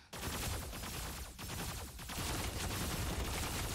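Dense, rapid bursts of gunfire in the video game Super Mecha Champions crackle continuously, like automatic weapons firing in quick succession, loud and close.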